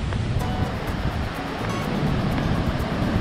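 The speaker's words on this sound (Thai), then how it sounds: "น้ำตกไหลลงมาตามโขดหินนะครับ" Li Phi waterfall in the Mekong River at Don Khon, southern Laos, pouring over rocks: a dense, continuous rushing roar, loud and steady throughout with wind buffeting the microphone and no talk.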